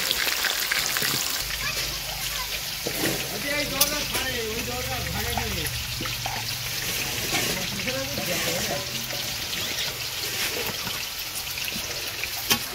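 Potatoes, cabbage and carrots fry for a broiler chicken curry, a loud, constant hiss and crackle of hot oil throughout, with a person talking over it in the middle.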